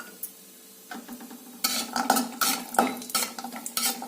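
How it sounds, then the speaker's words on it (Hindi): Cashews roasting in ghee in a pan while a spoon stirs them. A near-quiet start gives way to steady scraping and clinking of metal on the pan over a low sizzle. "अब हम काजू भून लेते हैं।"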